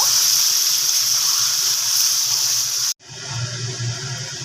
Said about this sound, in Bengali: কাজু পেস্ট গোলা বাটির যে জলটা থাকে ওটাও দিয়ে দেওয়া হচ্ছে